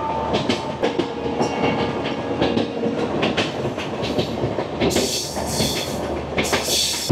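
The Agartala–Kolkata Garib Rath Express runs on a single line between Badarpur Junction and New Haflong, with a loud, close rumble, rhythmic wheel clatter and bursts of hissing noise.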